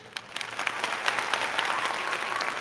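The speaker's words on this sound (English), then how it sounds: "I can put like the applause." A canned applause effect plays from streaming software, steady crowd clapping that rises quickly and holds at an even level with no voices.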